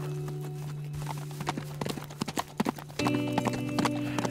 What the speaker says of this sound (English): The horse there, too.